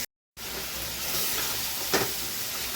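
Pointed gourd and potato fry with spices in a pan, giving a continuous close sizzling hiss after a brief silent gap, with one louder burst of sizzle midway and no talking.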